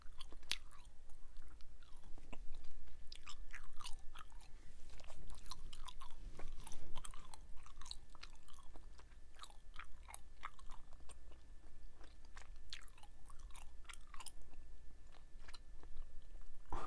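Strawberry-lime Trident Splash gum being chewed close to the mic, with continuous wet smacking and frequent sharp little clicks and snaps in an irregular rhythm, no talking.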